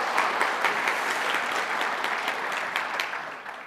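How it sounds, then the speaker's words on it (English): A conference audience at a Python convention's opening ceremony gives a round of applause, with many hands clapping briskly before the sound thins and fades toward the end. "let's give him a round of applause"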